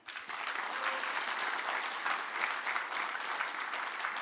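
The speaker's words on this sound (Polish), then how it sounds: "Proszę o brawa, pan Jacek Kiczek." An audience at a Polish political gathering applauds as Jacek Kiczek is introduced, a steady, even wash of clapping that lasts the whole stretch without breaks.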